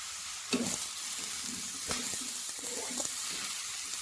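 Drumstick pieces and carrot are stirred with spices in a hot pan, a steady sizzle and fry hiss broken by scraping and clinking strokes of the spoon against the pan, close up with no talking.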